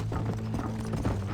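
Horse hooves clip-clop in Red Dead Redemption, a quick even rhythm of hoofbeats over a low steady hum.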